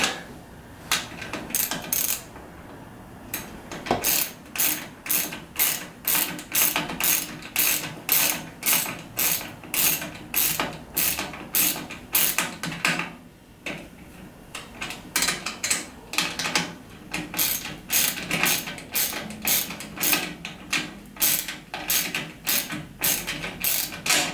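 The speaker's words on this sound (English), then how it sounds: "now I can grab the socket" A ratchet socket wrench clicks through rapid, rhythmic bursts of pawl ticks, loud and close, with a brief pause before the turning resumes and continues in even strokes.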